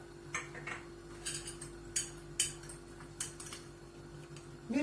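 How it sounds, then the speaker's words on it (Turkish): A spoon stirs red lentil soup in a pot, giving a series of light, irregular clinks and taps against the metal over a quiet background hum. "Dibini tutmasın diye yine ara ara karıştırıyorum arkadaşlar."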